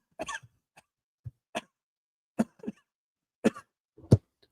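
A person imitates the coughing heard during a courtroom trial session: several separate, harsh coughs and throat-clearing bursts, close and fairly loud, spaced irregularly with silence between them.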